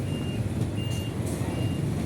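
A large truck maneuvers into a building site amid traffic, its reversing alarm sounding a few evenly spaced high beeps over a loud, steady diesel engine rumble nearby.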